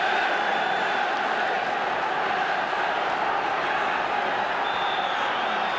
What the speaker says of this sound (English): the crowd that seemed anxious now finds its voice